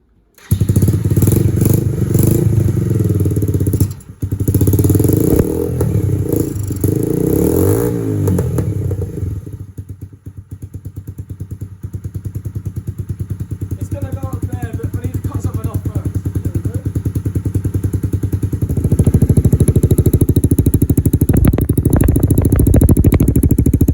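A motorcycle engine started on choke, then running loud and steady at a fast idle with some revving and clattering, close by, with someone talking over it.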